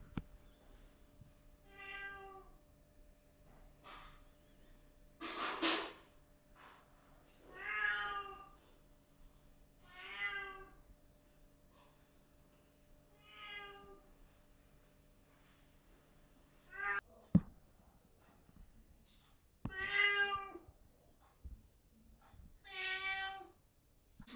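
A cat at a veterinary clinic meows repeatedly across the stretch, giving about ten clear, drawn-out calls spaced a couple of seconds apart, fairly close and loud over a low background hum, with a few brief clatters between them.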